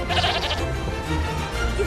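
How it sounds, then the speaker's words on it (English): A black sheep in the animated film How to Train Your Dragon 2 gives a quavering bleat, followed by a lower grunting tail over a faint steady background. "Yeah, the black sheep!"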